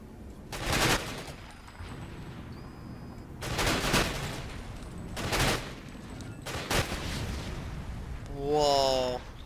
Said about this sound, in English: that was a nice grenade